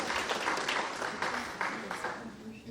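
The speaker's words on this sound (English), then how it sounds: "Let's give another round of applause to these beautiful, amazing women" A room at a women's conference applauds the women being honoured. Steady, fairly quiet clapping continues throughout, with a voice faintly present beneath it.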